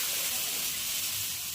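Nigella seeds and dry red chillies fry in hot oil as a tempering for matar dal, giving a loud, close, steady hiss and sizzle that carries on without a break.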